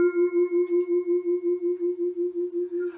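A sustained vibraphone note held with the pedal down, its tone pulsing in a steady tremolo from the instrument's rotating motor-driven fans, about five wobbles per second, close and clear with no talking.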